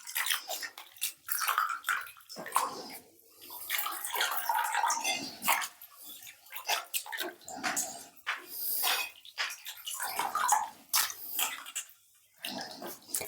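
Clams in their shells being scrubbed and rinsed by hand in a bowl of water to wash off sand, with continuous close splashing, sloshing and rattling of shells throughout.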